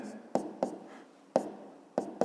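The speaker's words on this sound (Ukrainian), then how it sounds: "Записуємо тоді відповідь, пишемо відповідь." Pen strokes as an answer is written out by hand on paper in a math lesson, a close, quiet series of short scratchy strokes in uneven rhythm, about six distinct marks with faint scraping between them.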